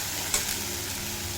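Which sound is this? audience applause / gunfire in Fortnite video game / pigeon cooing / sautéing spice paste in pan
sautéing spice paste in pan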